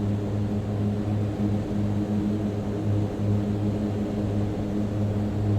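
A Mitsubishi MU-2 turboprop in Microsoft Flight Simulator drones steadily at rising throttle, a loud, close, even propeller hum with layered engine tones and airy hiss, no voices.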